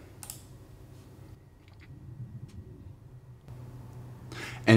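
Computer mouse clicks during a VPN setup on a computer: a few sharp, quiet clicks spaced seconds apart over a low background hum.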